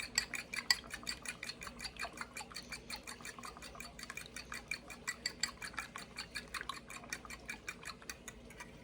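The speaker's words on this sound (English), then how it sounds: "I also have 2 eggs, and I'm going to slightly beat them in a bowl" Two eggs being lightly beaten in a bowl for gluten-free cinnamon rolls: a fast, even series of fork or whisk clicks against the bowl, close and fairly quiet, continuing throughout.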